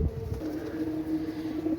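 Pigeons of a Pakistani flying breed coo softly in a loft, a low rolling murmur running steadily through the moment with a brief louder thump at the start, no voices.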